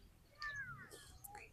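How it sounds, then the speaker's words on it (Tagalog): Birds calling in Tennogawa Park, Japan, near people by the water, give a few quiet, thin rising and falling calls over a low outdoor hum. "ayan po yung mga ibon"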